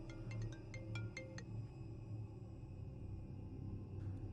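A phone ringtone sounds in a quiet indoor scene, a short series of bright repeating electronic tones in the first second and a half over a low steady hum, then fading.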